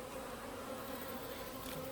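Honey bees hum steadily and close at a beekeeper's hives, a dense continuous buzz with no other sounds.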